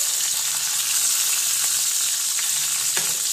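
Tomatoes fry in oil in a pan for a chutney, giving a continuous loud sizzle with faint stirring taps and no voices.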